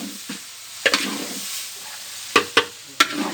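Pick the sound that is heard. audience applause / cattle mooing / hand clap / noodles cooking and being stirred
noodles cooking and being stirred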